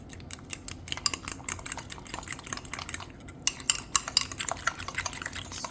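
Onions and peppers being stirred in a pan, a steady stream of light clicking and scraping utensil taps against the pan, close and fairly quiet, with no voices.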